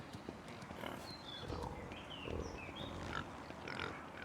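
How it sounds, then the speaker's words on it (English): Pigs grunting in the medieval video game Pentiment, a series of short snorts and grunts over a low farmyard ambience, moderately close. "Pigs! Hello, pigs. How you doing?"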